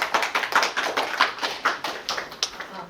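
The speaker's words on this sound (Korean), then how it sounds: "박수로 맞아주세요." An audience claps to welcome a speaker at a public forum on urban ecology and public gardens, a brisk spell of applause in a hall.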